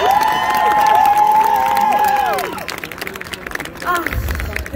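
A Berlin concert crowd at Sound of Peace 2022 cheers and applauds for a singer; a loud sustained roar with whistles and shouts fades into scattered clapping while a voice talks.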